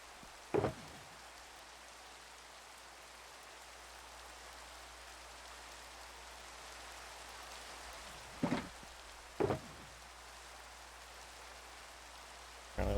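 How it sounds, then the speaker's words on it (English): Steady soft rain hisses in Minecraft, a quiet even wash of falling drops, broken by a few brief thumps. "And rain."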